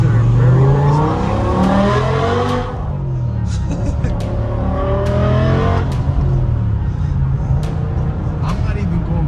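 A straight-piped BMW E60 M5 with its V10 engine revs loudly and repeatedly, each blip rising sharply and then falling away close to the listener, while people talk over the engine.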